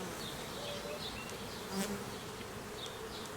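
A swarm of honeybees buzzes around a hive frame during a swarm transfer in the suburbs. The drone is faint and continuous, with individual bees flying past close by.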